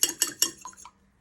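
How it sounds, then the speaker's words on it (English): A fork rattles against a bowl while whisking eggs for a white chocolate orange cake, giving three sharp, close clinks in quick succession followed by a couple of softer taps before it goes quiet. "you get a fork and you give that a good whisk"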